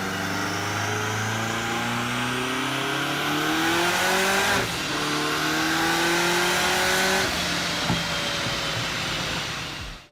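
An SSC Tuatara's 5.9-litre twin-turbo V8 revs hard and continuously, its engine note rising in pitch twice with a brief dip between, loud and close with no talk.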